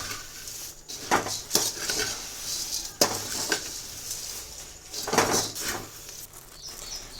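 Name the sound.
puffed rice being roasted and stirred in a pan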